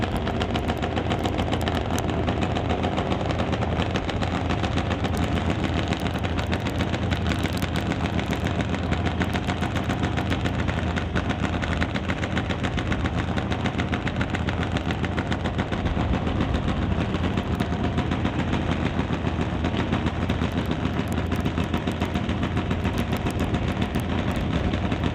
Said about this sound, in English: Both bikes away on green lines.